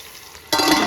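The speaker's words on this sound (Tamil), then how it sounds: "நல்லா வெங்காயமும் நல்லா ஃப்ரை ஆகிட்டு வருது." Onions frying in a pan for coconut milk pulao, a quiet sizzle that suddenly swells into a loud, steady crackling hiss partway through, with no talking.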